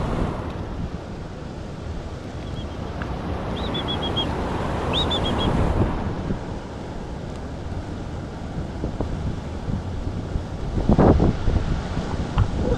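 Steady outdoor wind rushes and buffets the microphone, blending with a broad surf-like roar, with a stronger gust near the end.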